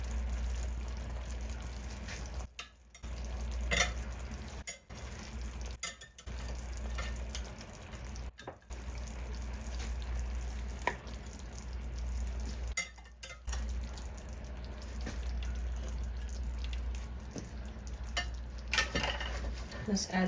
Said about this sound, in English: We're going to re-add our salmon back to the pan.